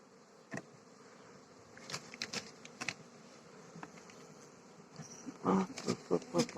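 Honeybees buzz at a hive, drifting in and out, with several louder close passes standing out over a low steady hum of outdoor background.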